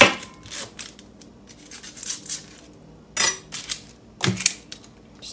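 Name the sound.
knife chopping a red onion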